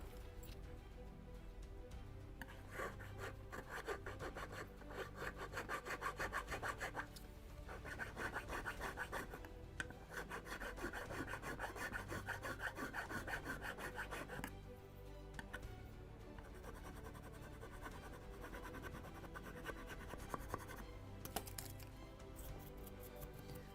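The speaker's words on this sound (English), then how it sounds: "And I can use just file." Hand file rasping on wood of a 1:76 scale Mayflower model ship kit beakhead, repeated rapid back-and-forth strokes in bursts with brief pauses, close and fairly loud, no voices.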